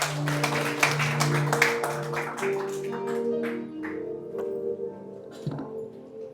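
A church congregation applauds for Jesus at the close of a prayer, a soft, scattered patter of many hands that tapers off alongside sustained organ or keyboard tones.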